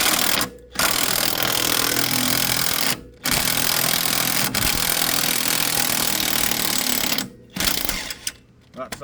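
Power tool rattling hard as it removes a 14mm strut bolt on a Honda Civic Si, three long loud bursts separated by brief pauses, close up.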